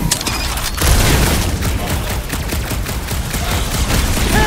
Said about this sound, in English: It's like this thing eats blaster fire!